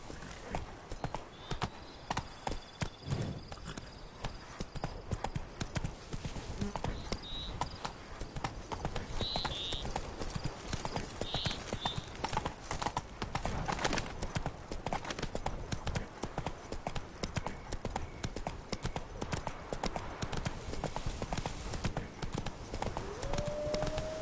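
Roach, the horse in The Witcher 3 video game, gallops with steady, rapid hoofbeats throughout, loud and close, joined by occasional whinnies over a continuous game soundscape.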